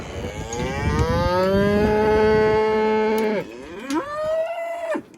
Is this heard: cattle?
yes